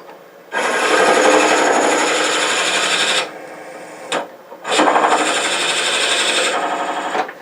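Loud, harsh rasping of a drill cutting into scrap wood on a lathe at about 500 rpm, in two long bursts separated by a brief pause and a short blip.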